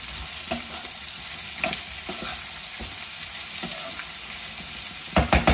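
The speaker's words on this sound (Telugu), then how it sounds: "బెండకాయలు వేసేసుకుని ఒక్కసారి కలిపేసుకుందామండి." Okra stirred and frying in a hot pan for a Telugu-style bendakaya fry, a steady close sizzle broken by scattered spatula scrapes and clacks, with a burst of louder stirring at the end; no one speaks.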